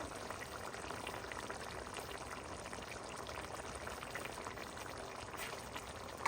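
A pot of Nellore-style fish curry at a steady boil, giving a faint, even bubbling and simmering hiss with no pauses and no voices.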